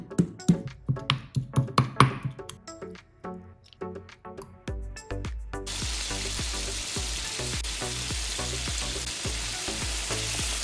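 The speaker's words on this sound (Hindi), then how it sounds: "अब इस स्टेज पे हम इसमें 2 टेबलस्पून फ्रेश कुटा हुआ अदरक शामिल करेंगे और इसे मज़ीद फ्राई कर लेंगे।" Garlic chicken sizzles and fries in a karahi with freshly crushed ginger, spoon stirs and scrapes knocking in a rhythm at first before the frying settles into a steady, dense hiss close by.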